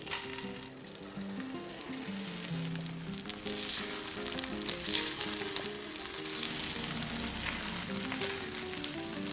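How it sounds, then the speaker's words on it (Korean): Egg-coated slices of pink sausage pan-frying over low heat, a steady soft sizzle and crackle running throughout, with background music playing over it. "분홍 소세지 자른 후 달걀 풀고 골고루 묻힌 후 약불에서 구워줍니다."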